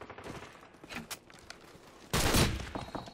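Gunfire in the video game Call of Duty 4 comes as scattered sharp shots and then a louder, dense burst near the end.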